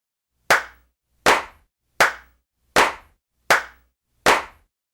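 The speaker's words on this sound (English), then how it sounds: "Here's the original sound, followed by the thickened and sweetened clap using multiple tracks and effects." A single hand clap repeats six times at an even, slow pace, each a sharp, close, dry crack with a quick decay and silence between, the first plain and the later ones thickened and layered with effects.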